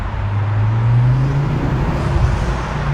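A Ford Focus ST drives at about 20 mph with the window down, its engine holding a steady low hum beneath continuous road and wind noise.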